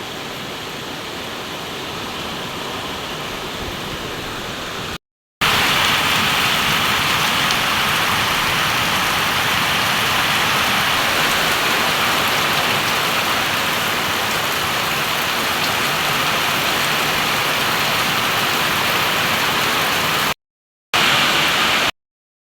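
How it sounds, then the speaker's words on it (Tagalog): Heavy rain pours down in a dense, loud, unbroken hiss, a steady downpour filling the whole stretch with no voices heard. "trumaragasan na naman po ang malakas na ulan."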